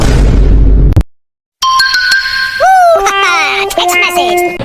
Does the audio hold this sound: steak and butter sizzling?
no